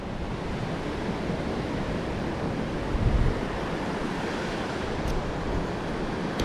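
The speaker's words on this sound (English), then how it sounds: "If you cannot hear me because of the wind, let me know." Wind gusting steadily on a winter seaside walk in Can Picafort, Mallorca, a constant broadband rush with surf-like noise and microphone buffeting, one stronger gust near the middle, no speech.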